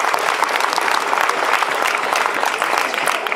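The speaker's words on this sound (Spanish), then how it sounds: "Un aplauso para él." Audience applause at a presentation, loud and sustained clapping from a crowd filling the whole moment without a pause.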